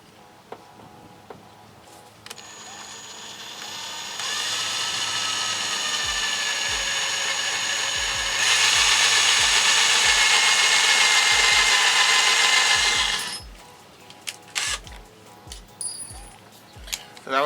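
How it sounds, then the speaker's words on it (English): A power drill with a small drill bit whines close by, rising in pitch as it bores through material, with scattered thumps and clatter before and after. "So that was one of my small drill bits."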